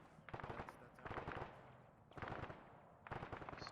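An M60 machine gun firing in a military video game, heard far off and faint as four quick bursts of rapid shots with short gaps between them.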